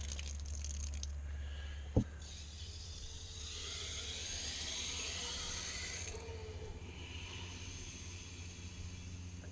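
Steady broadband rush of water running from a pipe after a valve replacement, fairly loud and continuous, with a sharp click near the start and a low hum throughout.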